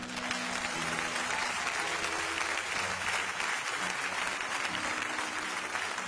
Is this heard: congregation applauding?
yes